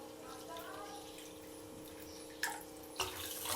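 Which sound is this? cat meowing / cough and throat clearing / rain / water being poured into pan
water being poured into pan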